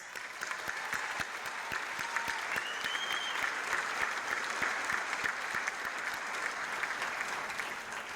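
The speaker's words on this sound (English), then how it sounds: "let's give again a big round of applause to Len Radresky and Ralph Valdez" Sustained audience applause fills a hall at a consular event, a dense steady wash of many hands clapping at even loudness with no voices over it.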